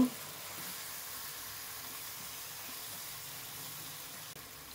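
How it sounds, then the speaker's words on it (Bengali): A rohu fish head sizzles and fries steadily in a pan for a Bengali muri ghonto, with a constant close hiss and no talking. "মাথাটা এখন আমি ভালো করে কষিয়ে নেব"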